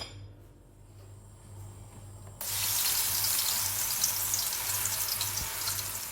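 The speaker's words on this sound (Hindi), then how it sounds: "उसी सेम कढ़ाई में जो तेल बचा था उसमें मैंने 3 प्याज जो मिक्सर में पीसी थी वो डाल के फ्राई करने के लिए छोड़ दी हूँ" Ground onion paste hits hot leftover oil in a kadhai and breaks into a loud, steady sizzle that keeps going, with a quieter low hum underneath and no voices.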